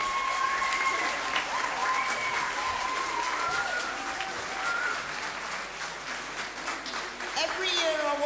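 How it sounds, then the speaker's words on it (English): Applause from the audience at a 2013 high school variety show at Bispham High School, a steady wash of clapping from a hall crowd with voices and cheering tones running through it. "Give him another round of applause, please."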